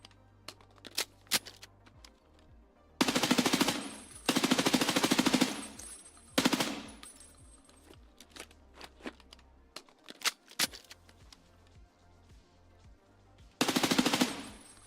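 Rifle gunfire in the shooter game Escape From Tarkov, an ACOG-scoped gun firing in several sustained automatic bursts separated by pauses, loud and close, with scattered single shots and clicks between the bursts.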